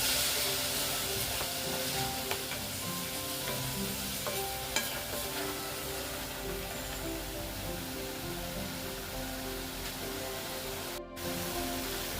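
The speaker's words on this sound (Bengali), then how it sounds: "এখন আমি এই যে মিক্সির কাপটা ধুয়ে একটু জল দিয়ে দিলাম জলটা দিয়ে একটু কষিয়ে নেব" Masala for a rajma curry cooks in a pan after a little water is added, giving a steady, fairly loud sizzling hiss throughout with faint stirring clinks and a brief dropout near the end.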